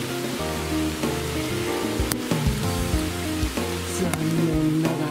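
Steady rain falls during an approaching typhoon, a dense continuous hiss with occasional sharper drip impacts, under a sustained tonal hum, with no talking.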